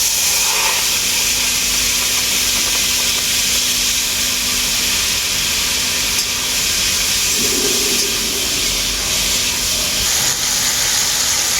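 Whole cumin seeds and dried chillies sizzling in hot mustard oil, a loud, continuous close hiss and crackle that holds steady throughout with no talk.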